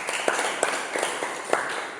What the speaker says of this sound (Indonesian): Terima kasih untuk Mbak Ida, tepuk tangan dong